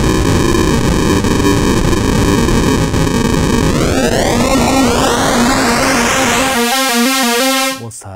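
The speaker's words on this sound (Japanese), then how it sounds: "でクラッシャーがこんな感じになります。" A loud, harsh tone from a Roland AIRA System-1 synthesizer running the SH-101 plug-out grows gritty and distorted through its bitcrusher, its pitch sweeping upward before breaking into choppy, crushed digital stutters, then cutting off.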